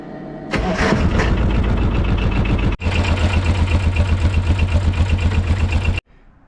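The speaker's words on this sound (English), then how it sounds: "so you're going to let this run for a few minutes." A 2007 Arctic Cat 700 Diesel ATV engine cranks, fires and settles into a loud, steady, rhythmic diesel idle close by, with a brief stumble midway before cutting off.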